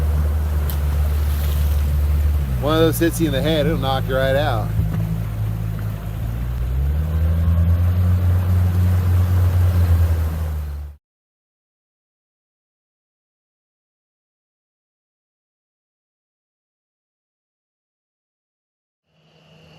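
An outboard boat motor drones steadily on the Missouri River, with wind, while someone talks over it. The motor cuts off abruptly about halfway through and silence follows.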